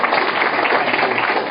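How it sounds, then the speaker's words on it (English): A conference audience gives sustained applause, a dense, even wash of clapping hands filling the hall without a break. "Hearty warm applause for it."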